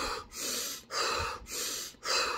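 A voice imitates Wim Hof-style meditation breathing: four rapid, forceful breath cycles in a steady rhythm, close and loud, each a rushing whoosh separated by a brief pause.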